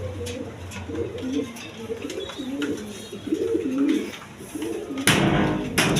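Pigeons at a Bangladeshi pigeon seller's, a breed sold in pairs, coo in repeated low warbling phrases throughout, close and steady, with a sharp burst of wing flapping near the end.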